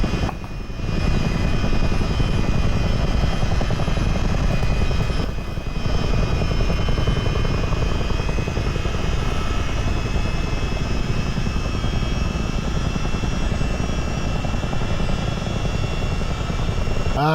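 A US Army Chinook helicopter in Microsoft Flight Simulator VR runs its engines under proper throttle: a loud, steady, continuous rotor-and-turbine drone from start to finish, with a brief dip partway through and no talking.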